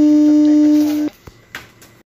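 The default imo call ringback tone, with no caller tune set, plays as a steady, clear electronic beep held for about a second before it cuts off, followed by a couple of faint clicks.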